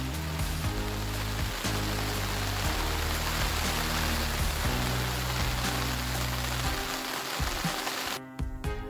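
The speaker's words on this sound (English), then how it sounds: "And of course, it's raining again." Steady Alaskan rain patters and hisses on surfaces throughout, dense and continuous, with a low hum underneath before cutting off near the end.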